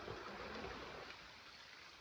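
A river flows with a soft, steady rushing wash of water, continuous and fairly faint, with no talking.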